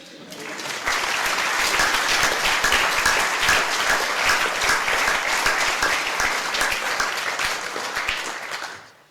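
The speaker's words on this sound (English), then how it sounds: "could we also have a round of applause for the helpers, for the committee who put this together" An audience in a chapel after a university debate breaks into sustained applause, a dense, even wash of many hands clapping that swells in and fades out at the end.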